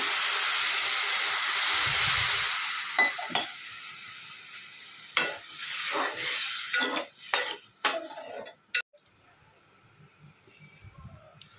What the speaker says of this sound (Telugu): వాటర్ బాయిల్ అవుతుంటే